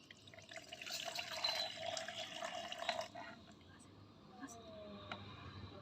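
Water poured into containers for a school science experiment splashes and trickles faintly, strongest early and fading into quiet dribbles, with a voice talking softly.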